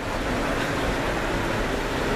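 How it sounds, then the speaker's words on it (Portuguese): Wind gusting outdoors by a hospital entrance ramp and parking area, a dense, steady rumbling whoosh buffeting close, with no talk heard. "É o vento, vai desmanchar o cabelo dela."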